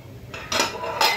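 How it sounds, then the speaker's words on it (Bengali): Metal lid set onto a cooking pot of fish curry broth, two quick clinking clatters about half a second apart, close and clear. "ঢাকনা দিয়ে দিচ্ছি বলক আসার জন্য"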